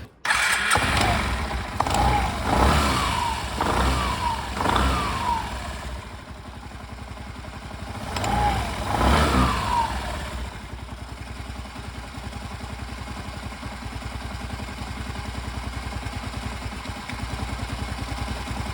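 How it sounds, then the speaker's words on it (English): A Suzuki Access scooter engine cranks a few times, catches, then settles into a steady, rattly idle close by. "So come on, let's start the bike."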